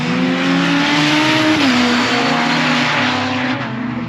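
A supercharged or turbocharged Westfield race car at the Knockhill circuit, its engine a loud, steady droning roar held at high revs with a brief pitch shift midway, no voices over it.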